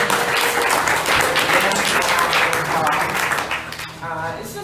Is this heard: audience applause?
yes